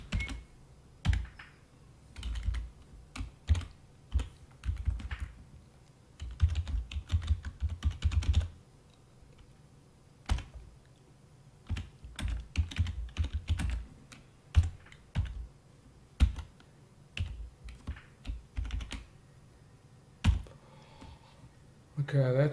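A computer keyboard is typed on in close bursts of rapid clicking keystrokes, with short pauses between runs and a few isolated key presses.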